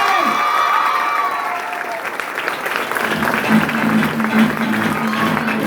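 Audience applause at a Marathi women's success-story testimony event in Nashik: dense, steady clapping fills the whole stretch, loud and close, with a faint hum joining partway through.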